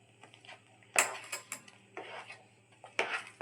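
A spoon scrapes and clinks against a pan while Bombay halwa is stirred after lemon juice goes in, giving a few sharp metallic taps and a softer scraping between them.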